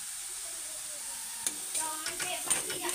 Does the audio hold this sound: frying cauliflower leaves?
yes